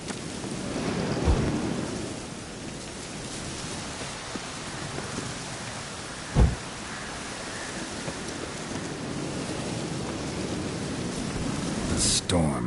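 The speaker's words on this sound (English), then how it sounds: "The storm, damn it." Thunderstorm in The Witcher 3 game: steady heavy rain hiss throughout with a sharp thunder crack midway and rumbling swells, while voices speak over the storm.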